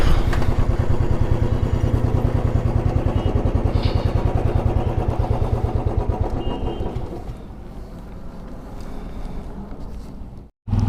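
A motorcycle engine idles steadily and loudly at a petrol pump, its rapid even putter running throughout before dipping briefly near the end and resuming.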